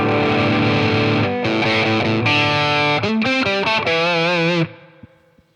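An electric guitar played through a Line 6 Catalyst amp rings out heavily distorted, sustained chords and shifting notes changing in tone, loud and alone, then cutting off and decaying near the end.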